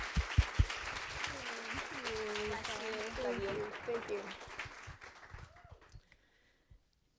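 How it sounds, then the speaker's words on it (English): Applause from a book launch party audience builds to a steady round under chatter and voices, then fades out, with a few isolated claps near the end. "Give her a round of applause."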